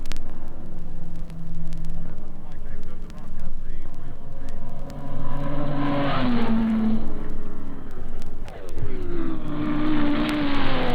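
Race cars roar past at the 1956 Sebring endurance race, engines rising and falling as several pass in turn, a loud continuous engine drone with pitch sweeps as each car goes by, under a steady commentator's voice.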